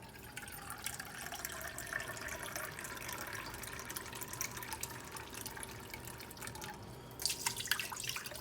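About 1.5 cups of water runs and splashes quietly into a pot, a soft steady trickle with a louder burst of pouring near the end.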